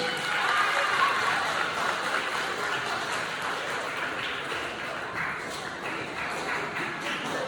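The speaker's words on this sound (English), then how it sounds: "Give them a big round of applause" Sustained applause from an audience at a middle school program ceremony, a dense steady wash of many hands clapping throughout, fairly loud and filling the room, easing slightly toward the end.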